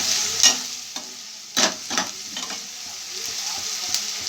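Egg tempering fries in a pan with oil and green chillies, a steady sizzle broken by several sharp scraping strokes as a spatula stirs it close by.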